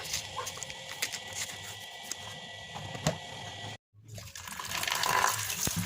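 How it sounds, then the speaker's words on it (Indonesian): Peeled cassava is washed under a running kitchen tap, with water splashing and pattering steadily at close range, then a brief cut to silence before the flow resumes louder. "lalu cuci singkongnya dengan air yang mengalir"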